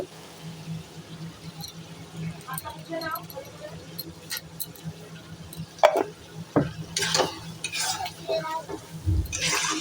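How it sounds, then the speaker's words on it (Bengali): Spice masala with ginger, garlic and green chilli frying in a pan for a jackfruit and prawn dish, with scattered clinks and scrapes of a utensil stirring, close, under a low steady background hum and occasional talk. "ভালো করে মশলাটা কষিয়ে নেব।"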